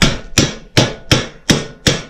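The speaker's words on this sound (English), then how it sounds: "you might need a hammer" Six sharp hammer blows strike at a steady rhythm, each a loud metallic whack with a short ringing decay, close by and without talk, while fitting an axle during a Super Bronc build.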